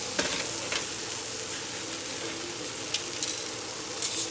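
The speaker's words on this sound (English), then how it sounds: "these steaks are cooking very nicely" Steaks sizzle steadily in a pan as part of a budget steak dinner for two, a continuous close frying hiss with a few light clicks from utensils.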